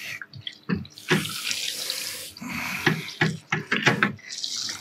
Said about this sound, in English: So might just pop a little bit of water in there and see how that comes up.